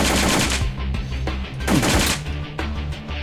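A simulated AK-47 fires on full automatic in the gun game World of Guns, with rapid loud bursts of shots in quick succession and short pauses between bursts.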